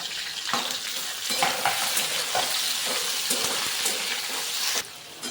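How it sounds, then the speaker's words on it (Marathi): Ivy gourd (tondli) pieces frying in oil give a dense, steady sizzle close by, with occasional stirring clinks, and the sizzle drops sharply near the end. "आता ते आपण तेलामध्ये फ्राय करून घेऊ तोंडोळे चांगले लालसर होऊ तर आपण तेलामध्ये परतून घेऊया"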